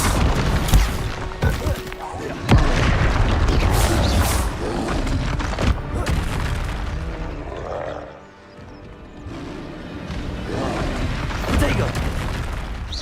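Fire spells cast in Hogwarts Legacy come through as repeated booming, crackling blasts over constant busy game noise, with a voice speaking over the action.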